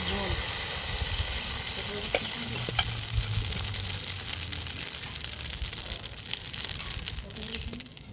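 Semolina batter sizzles steadily in a pan with no oil, a continuous bright frying hiss with light stirring and scraping noises, close and even throughout with no voice over it.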